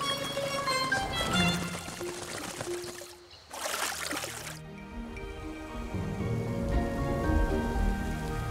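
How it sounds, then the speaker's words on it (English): Sudden rain falls across a wetland lake, a dense hiss and patter of drops that briefly drops away, then returns, with a soft musical score running beneath it. "The sudden rain eases the standoff temporarily."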